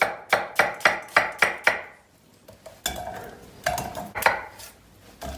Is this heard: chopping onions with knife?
yes